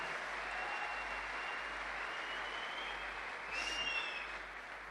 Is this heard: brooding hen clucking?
no